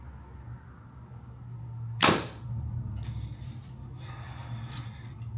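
A Hoyt Alpha AX 2 compound bow fires an arrow: one sharp, quiet snap of the string and thump of release, followed by soft rattling and handling noise against a low background hum.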